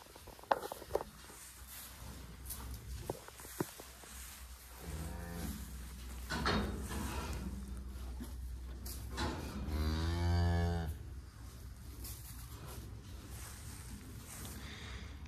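A cow on a farm lets out two long, loud moos near a calving pen, one in the middle and one toward the end, amid quiet barn background noise and a few faint knocks.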